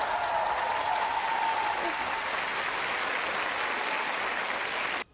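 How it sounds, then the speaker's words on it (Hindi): A stadium crowd applauds right after the national anthem at a fundraising event for Ukraine, a broad, continuous roar of clapping from many people that holds steady and then cuts off abruptly at the end. "स्टेडियम तालियों की गड़गड़ाहट से गूंज उठा।"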